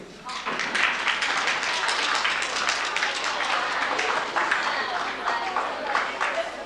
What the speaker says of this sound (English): we'd like to applaud for you